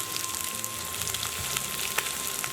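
Ground coriander, cumin and fennel powders fry in a pan for gizzard pepper roast, giving a steady close sizzle with soft crackle and a few sharper pops throughout, no voices.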